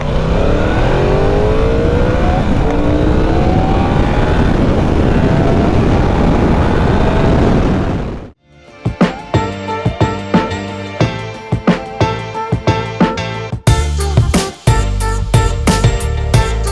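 A 2016 Yamaha YZF-R1 60th Anniversary Edition sportbike accelerating into a turn, its engine a loud, close roar that climbs in pitch for about eight seconds. It then cuts off abruptly and gives way to a different, rhythmic, beat-like sound.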